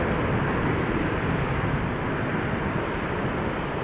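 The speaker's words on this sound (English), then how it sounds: "KLM 777-300 going to Cape Town, South Africa, flight 597." KLM Boeing 777-300 airliner at Amsterdam Schiphol Airport, a steady broad engine roar, loud and unbroken, with no talking.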